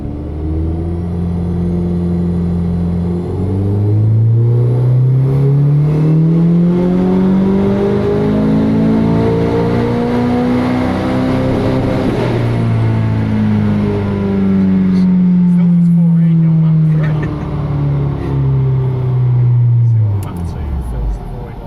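Vauxhall Astra VXR fitted with a big turbo, revving hard on a dyno during a mapping session at a performance workshop; a loud, close engine climbs and falls through several long sweeping revs, with voices faintly underneath.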